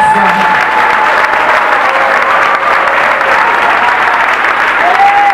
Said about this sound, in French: Nous applaudissons mon Dieu.